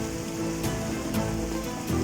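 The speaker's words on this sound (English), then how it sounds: "It's a heavy rainfall, man." Heavy rain pours down in Dubai, a steady, dense hiss of drops on surfaces with a few sharper splashes, loud and continuous throughout.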